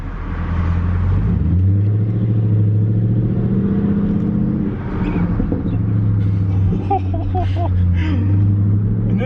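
Jaguar XK with a naturally aspirated 5.0 engine and the muffler deleted, idling close by with a deep, loud burble, then swelling through a few throttle blips before settling back to a rumbling idle.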